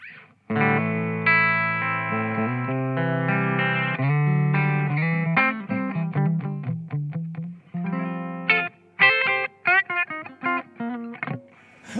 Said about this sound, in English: clean sound on this lovely Tompkins Tele that you're playing there, Alex